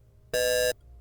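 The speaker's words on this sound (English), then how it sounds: "What's that alarm for?" A spaceship proximity alert sounds as a single bright electronic tone, loud and steady for about a third of a second before cutting off.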